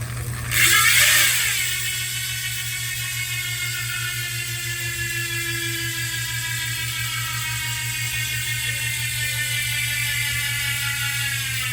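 A Revolve CLX 64 rim-brake bicycle wheel with a 54-tooth ratchet freehub spins freely, giving a steady fast buzzing click after a louder start, close and alone without talking.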